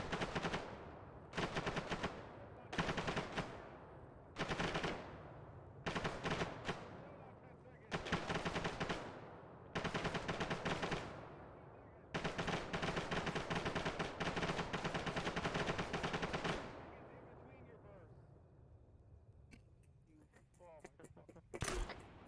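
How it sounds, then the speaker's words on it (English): An M240 machine gun in a military simulation video game fires in repeated sustained bursts, each a few seconds long with short gaps between them. Voices talk over the firing, which is fairly loud and close. "Is that your 240 popping off?"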